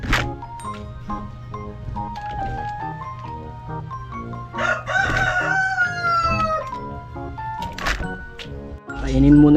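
Backyard chickens crow repeatedly at feeding time, loud rooster calls rising and falling over a steady bed of clucking, with a hen squawk and brief scraping of a feed bucket near the end.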